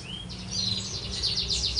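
A black red canary sings a quick series of bright chirps and trills, fairly close and clear, with a low hum underneath.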